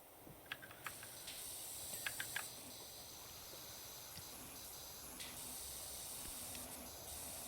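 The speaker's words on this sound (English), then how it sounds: "listen to the soothing sounds of pressure washers" A pressure washer sprays in the Powerwash Simulator video game, a faint, steady hiss running throughout with a few small clicks scattered over it.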